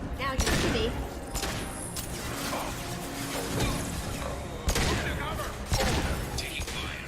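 Gunfire in the video game Mass Effect 2, dense and continuous combat bursts with crashes and thuds, close and loud, with voices calling out over the shooting.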